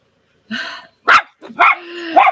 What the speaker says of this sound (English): We're going to have a barking dog for a minute.